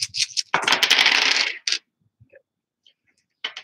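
Six dice tumble and clatter across a table during the Dungeon Saga tabletop board game, a dense rattling burst with a few scattered clicks after it and faint voices.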